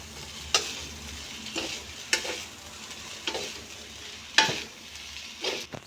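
Veg noodles being stir-fried in a pan, with steady sizzling broken by several sharp metallic scrapes and clanks as they are tossed and mixed.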